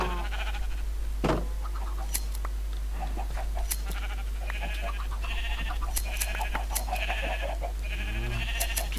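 Sheep in the video game Minecraft bleat several times amid a steady game background, with short bright calls scattered through and a lower bleat near the end; no one speaks.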